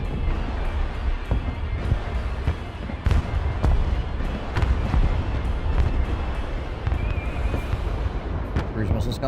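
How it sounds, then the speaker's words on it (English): Cruise missile explosions in the Broken Arrow video game, a dense barrage of booms and crackling blasts rolling on continuously under a player's voice. "Cruise missiles coming in, I think."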